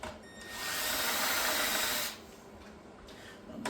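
A power drill bores into an RC car chassis in one sustained whining burst of about a second and a half, close and clear, with quiet handling noise before and after.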